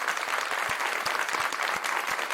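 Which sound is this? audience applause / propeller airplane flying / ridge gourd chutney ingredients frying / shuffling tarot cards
audience applause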